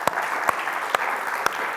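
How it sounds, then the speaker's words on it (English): A lecture audience applauds in a steady, moderate patter of hand claps, with a few sharper claps standing out. "Please, a round of applause for Lisa."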